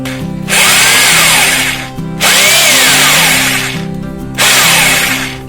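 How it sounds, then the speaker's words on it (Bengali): A Boray electric drill running in normal mode, loud close whine that spins up and winds down in three bursts separated by brief pauses. "তখন কিন্তু আপনার এটা চালু হবে এই ড্রিল মেশিনটা"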